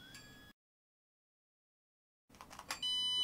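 A short burst of high electronic beeping and clatter from an ASIAIR PRO astrophotography controller, then silence, then a steady high-pitched beep tone that holds at the end.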